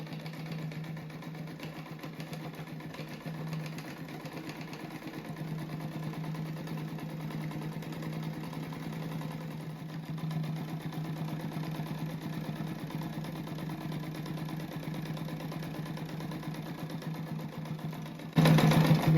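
A sewing machine stitches a crazy-quilt patchwork rug, giving a steady mechanical whirring hum with a fast rhythmic clatter that runs almost unbroken and gets louder near the end.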